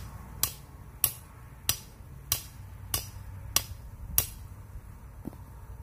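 Seven steady, evenly spaced thwacks of a mallet striking a stake, close and sharp, with quiet outdoor ambience between blows.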